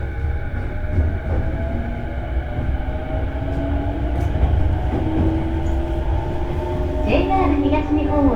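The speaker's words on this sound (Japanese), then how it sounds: "この電車は中央線快速高尾行きです。" A JR Chuo Line Rapid E233 series commuter train runs between Tokyo and Tachikawa, heard from inside the car as a steady loud rumble and motor whine with faint rail clicks, while voices murmur nearby.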